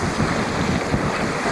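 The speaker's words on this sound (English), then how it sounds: "It is a nice little breeze." Breeze while sailing a boat out of Esperanza off Vancouver Island: a dense, steady rush of wind buffeting the microphone, loud and continuous, with the wash of water underneath.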